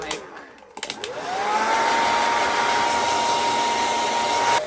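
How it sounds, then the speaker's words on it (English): A handheld blow dryer drying makeup primer on the face. It clicks on after a brief rustle, then roars up to a loud, steady whine and holds at a constant pitch until it shuts off at the end. "so that's why I'm using the blow dryer"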